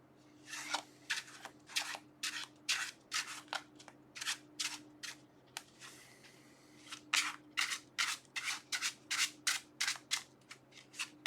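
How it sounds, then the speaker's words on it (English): Quick rhythmic riffling sounds repeat many times at a close, quiet level, like cards being shuffled over and over, with no talking. "Give a few shuffles."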